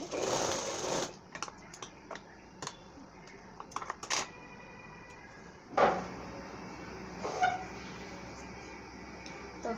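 A sewing machine stitches blouse fabric in short bursts of rapid whirring, separated by pauses and a few handling clicks, close and fairly loud.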